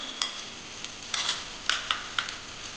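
A spoon stirring ginger and garlic paste with coriander powder and cumin in a metal pan, a handful of sharp scraping clicks and taps at an irregular pace over quiet background hiss.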